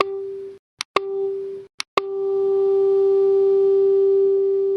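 Synthesized pure notes clicked in a virtual sound wave simulator sound as steady sine-like tones, two brief ones broken by clicks and short gaps, then a sustained held tone from the last click onward.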